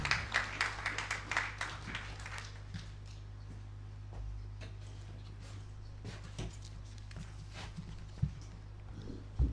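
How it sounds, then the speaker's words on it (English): An audience at a free-zone facility commissioning ceremony in Uganda gives a brief round of applause, a fairly faint spatter of claps that fades out after a couple of seconds into a quiet room with occasional knocks. "Can we clap for His Excellency King?"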